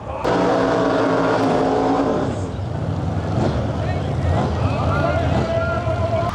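Drag race car engine at full throttle at a Lil Gangstas Invitational drag race, a loud sustained roar with a steady pitch that drops and turns rougher midway, wind buffeting the microphone and a commentator talking over it.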